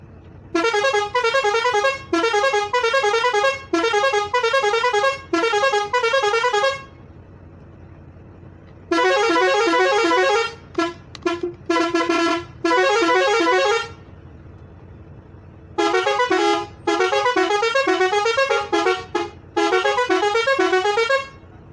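An omni bus air horn blasts a loud, melodic musical pattern in repeated long bursts separated by short pauses, close and dominant, with no talking.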